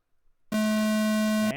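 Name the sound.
race start tone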